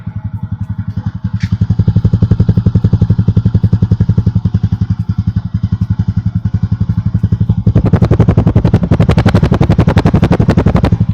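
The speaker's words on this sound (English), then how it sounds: "So I started the engine." A TVS Apache RTR 200 4V motorcycle engine idles close by with a steady, rapid low thumping pulse, getting a little louder and harsher toward the end.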